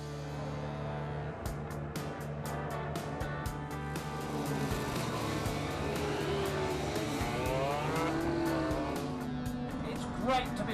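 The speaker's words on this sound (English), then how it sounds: "Great to be riding around Scarborough on the bike that Barry Sheene rode here last in 1984" Barry Sheene's 1984 classic racing motorcycle lapping Oliver's Mount circuit at Scarborough in slightly tricky conditions, its engine droning steadily and loudly with rising and falling pitch through gear changes and rapid ticking pulses.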